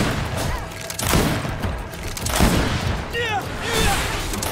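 Pistol shots in GreedFall, a few sharp bursts spread across several seconds among clashing combat noise and voices in the game, loud and close.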